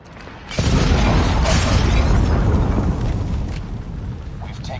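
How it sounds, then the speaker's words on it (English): A Predator missile explosion in a multiplayer shooter game hits as a sudden loud blast with a shattering, roaring rumble. The roar sustains for several seconds before slowly easing, and no voice speaks over it. "Predator missile inbound."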